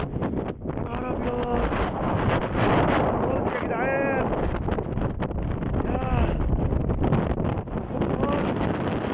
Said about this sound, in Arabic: ياه. هوا شديد جدا